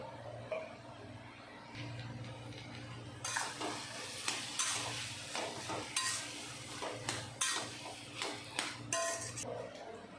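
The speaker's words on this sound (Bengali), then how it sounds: "কচুর শাকে বারে বারে নাড়া দিতে হবে।" Taro leaves (kochu shak) with shrimp being stirred in a pan, with repeated metal spatula scrapes and clinks against the pan over a soft background sizzle, close and steady with no talk.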